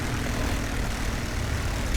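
Propeller airplanes from the Forgotten Honor game drone overhead in a dense, steady engine roar, loud and unbroken throughout with no speech.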